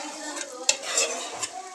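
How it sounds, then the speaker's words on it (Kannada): A spoon stirs a chicken biryani mixture in a cooking pot, giving close scraping sounds and a few sharp metallic clinks against the pot over a short stretch, with a faint sizzle underneath. "ನೋಡಿ ಫ್ರೆಂಡ್, ಈ ಥರ ಫ್ರೈ ಮಾಡ್ಕೊಂಡು ಮಿಕ್ಸ್ ಮಾಡಿ"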